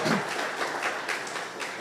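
Women in a church congregation applauding: a faint, continuous patter of many hands clapping, evenly spread throughout with no voice on top.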